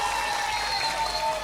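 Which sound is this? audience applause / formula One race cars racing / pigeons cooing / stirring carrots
audience applause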